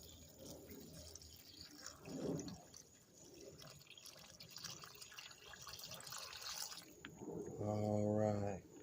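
Liquid pours and trickles with a watery splashing into acid holding cellphone gold scrap, broken up by nearby talking and a brief tonal sound near the end.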